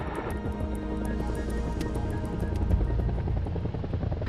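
Military helicopter holding a steady hover during a training exercise, its rotor blades spinning with a loud, continuous rumbling whir and a low pulsing drone that stays close and unbroken throughout.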